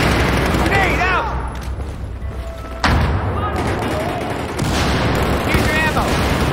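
Battlefield 4 multiplayer combat on PC, with a booming grenade blast and bursts of gunfire, loud and layered, mixed with other explosions and clutter as a voice talks over the action.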